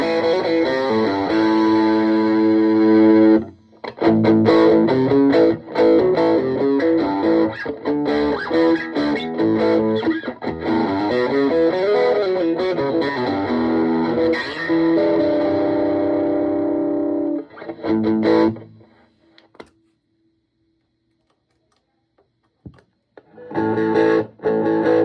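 An electric guitar plays through a Peavey Audition 110 combo amp on its channel-select setting, giving distorted chords and riffs that are loud and sustained for most of the passage, then a pause and a short return near the end.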